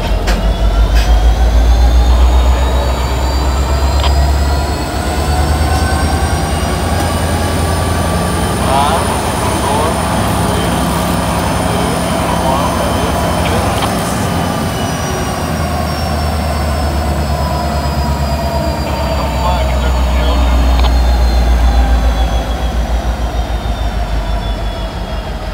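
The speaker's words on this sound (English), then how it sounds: "Got a bay window caboose. GP60." A freight train hauled by a GP60 locomotive, with a bay window caboose, rumbles past close by as a loud, continuous roll of wheels and cars with steady squealing tones.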